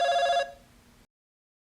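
An electronic telephone-style ring tone sounds briefly and then cuts off, leaving silence before a short burst returns at the very end.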